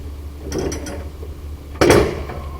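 Needle nose vice grips clamped onto a screw on iron work, giving a few close metallic clicks and a louder grinding scrape as the jaws lock and the screw is worked loose, with no talk.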